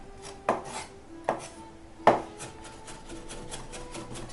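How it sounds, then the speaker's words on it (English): Garlic is chopped together with salt on a cutting board, three distinct knife strikes landing close and crisp at uneven intervals, followed by softer scraping and rubbing. "So chop up your garlic to whatever desired size you want"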